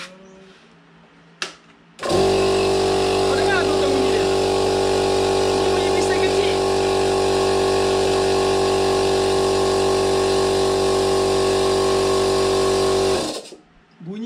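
A piston air compressor starts up and runs with a loud, steady mechanical drone and rapid chugging, then shuts off abruptly after about eleven seconds.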